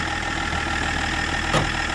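A Range Rover L322 engine runs steadily in the snow, a constant rumble that swells briefly as the throttle is pressed, heard up close with no voices.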